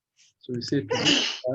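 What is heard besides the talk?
sneeze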